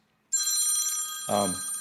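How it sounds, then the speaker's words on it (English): A mobile phone rings suddenly during a Tesla Roadster repair livestream, a loud bright electronic tone bursting in after a short silence and sustaining, with a second warbling ring layer joining near the end. "Pardon me for a moment, I'm going to silence my phone."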